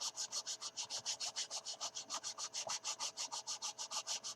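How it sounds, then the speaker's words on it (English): A Mr. Sanding Stick rubs back and forth over the fuselage of an Airfix 1/72 Short Sunderland plastic model, a close, fast, even scratchy rasp of about six strokes per second with no talk. "sand this thing down using Mr. Sanding Stick"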